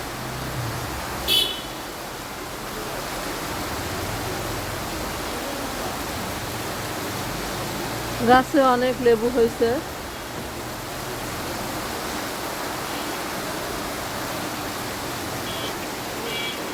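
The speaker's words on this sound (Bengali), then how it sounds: "প্রচুর পরিমাণে বৃষ্টি হচ্ছে, চারিদিক সাদা হয়ে গেছে বৃষ্টিতে।" Heavy rain pours down steadily over trees and surroundings, a dense, continuous hiss filling the whole stretch, with a brief burst of other sound and a few spoken words partway through.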